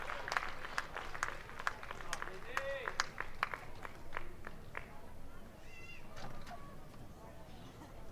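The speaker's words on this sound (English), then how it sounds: "she's shaking it off and getting the claps from the crowd" Crowd claps at a college softball game between BYU and UCF, a scattered run of claps from the stands that later thins out, with a commentator talking over it throughout.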